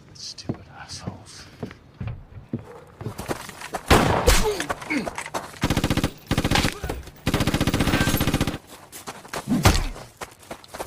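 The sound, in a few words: gunfire in a shootout from the film Brawl in Cell Block 99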